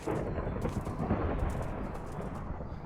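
A deep, rolling rumble of thunder in modded Minecraft, mixed with steady rain-like noise, continuous and fairly loud throughout, with no voices.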